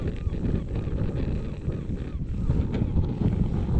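Wind at a wild camp beside Dunnottar Castle on the coast, buffeting the microphone in a loud, steady low rumble that lasts throughout with no pauses.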